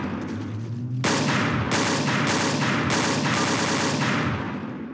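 A Carl Gustav M/45 submachine gun fires a long, rapid automatic burst in the Gmod video game, loud and close, with brief pauses between strings of shots.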